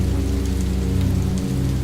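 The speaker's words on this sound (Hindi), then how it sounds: "अचानक बिजली कड़कने लगी और तेज बारिश भी शुरू हो गई।" Heavy rain pours down steadily in a cartoon storm, a dense continuous hiss with low rumbling underneath that may be thunder, no voices.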